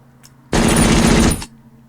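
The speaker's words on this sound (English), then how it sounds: "Once again, M113 fire." An M113 armored vehicle's machine gun fires in the Vietnam War game Heroes of the Nam, a single loud, rapid burst lasting about a second and then stopping.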